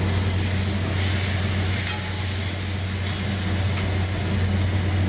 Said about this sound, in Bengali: ভালো করে একটুখানি কষিয়ে নেব বা ভেজে নেব